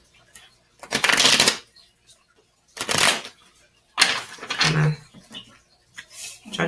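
A deck of angel oracle cards is shuffled in several crisp riffling bursts, close and clear, separated by pauses, with a voice speaking quietly between them.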